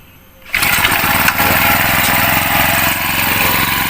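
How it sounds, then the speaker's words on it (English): A petrol brush cutter string trimmer's small engine catches after a quiet pull and settles straight into a loud, steady, buzzing run, close by with no talking. "and we're ready to start this engine."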